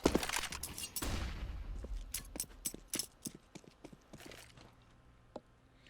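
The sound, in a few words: flashbang grenade in video game CS:GO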